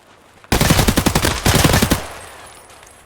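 Automatic weapon fire in the shooter game Escape from Tarkov: two loud, rapid bursts of gunshots separated by a brief pause, then a fading echo tail.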